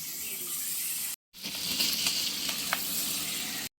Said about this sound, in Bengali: তেলটা গরম হয়ে গেছে আলুগুলো কেটে রাখা আলুগুলোকে